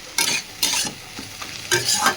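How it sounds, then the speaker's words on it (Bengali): Green chilies, eggplant and fenugreek greens sizzle in a pan as they are stirred, making several loud scraping strokes close by against a constant frying hiss. "এই দেখুন কাঁচা লঙ্কা টঙ্কা সব ঘেটে নিই, খেতে ভীষণ লাগে ভাজা।"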